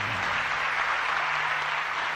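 An audience at a Gujarati folk performance breaks into steady, dense applause, a continuous wash of clapping throughout with a faint low hum beneath.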